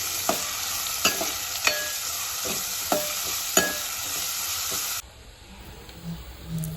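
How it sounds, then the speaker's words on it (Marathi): Finely chopped onion frying in oil after garlic, a steady close sizzle punctuated by regular spatula taps against the pan, then the hiss drops quieter for the last seconds. "एक मोठा बारीक चिरलेला कांदा आहे तो या तेलामध्ये टाकून घ्यायचा आहे"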